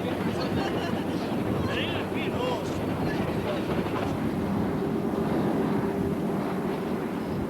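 A train on the Andean mountain line at Devil's Nose reverses up the slope on a switchback track, its wheels and carriages rumbling steadily and fairly close, with a few faint voices in the background.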